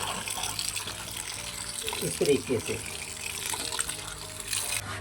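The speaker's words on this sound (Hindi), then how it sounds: "छान के ऊपर ठंडा पानी अच्छी तरह डाल दूँगा" Cold water gushes from a tap over strained noodles in a colander in a home kitchen, a steady splashing pour with someone talking briefly over it.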